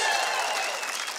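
An auditorium audience of married people cheers and applauds loudly, a dense, sustained wash of clapping and crowd noise that holds steady and tapers slightly toward the end.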